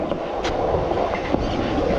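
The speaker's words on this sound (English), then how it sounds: "See the train up there?" Train rolling along elevated tracks above a windy Seaford skatepark in Melbourne, a steady low rumble with faint clatter running throughout under gusty wind, fairly distant.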